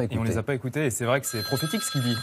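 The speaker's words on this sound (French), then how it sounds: "C'est rien, c'est le téléphone de..." A telephone rings during a French evening TV talk-show interview, its thin electronic tones sounding faintly beneath a man's continuous speech.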